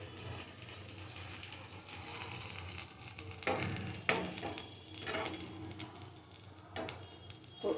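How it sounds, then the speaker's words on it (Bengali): Pumpkin leaves coated with lentils shallow-fry slowly in a little oil over a medium-low flame, giving a soft, steady sizzle with occasional light scrapes and clicks as they are stirred and turned. "মিডিয়াম টু লো ফ্লেমে রেখে আস্তে আস্তে এইরকম করে ভাজতে হবে"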